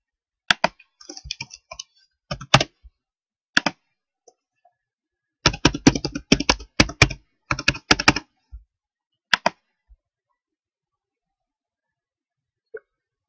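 A computer keyboard is typed on in short bursts of quick, crisp key clicks separated by silent pauses, close and clear with no talk.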